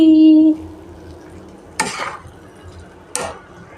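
Vegetarian biryani rice is mixed with coriander leaves, kasuri methi, pepper and garam masala in a pan. A brief tone comes first, then two distinct scraping, stirring sweeps of a spoon through the rice with quiet gaps between them.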